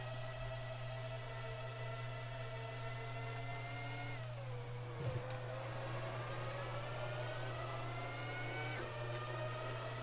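Formula One cars racing in F1 2004 on the PlayStation 2: a steady high-pitched engine whine with shifting revs, one car's pitch dropping as it passes, over a constant low hum, no talk.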